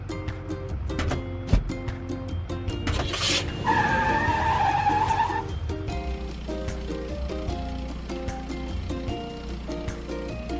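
Cartoon car driving and skidding in a kids' construction truck video game, a screeching skid tone rising briefly over steady game music, with no talk.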